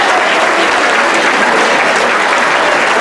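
A loud, dense round of applause from an audience at a scouting event's presentation, a continuous close wash of many hands clapping without pause.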